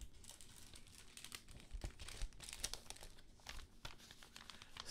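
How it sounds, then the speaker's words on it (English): Crinkly paper is handled and scrunched while packing eBay shipments, a quiet, continuous rustling and crackling up close with irregular louder crunches. "Sorry about the paper noise, I know it's a bit crinkly."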